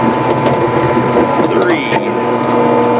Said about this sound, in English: the first hole is drilled out